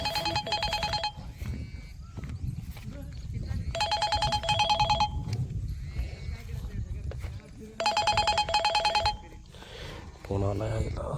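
A telephone rings in three loud, bright bursts of trilling bell tone over steady crowd noise and commotion at an outdoor bullock cart race.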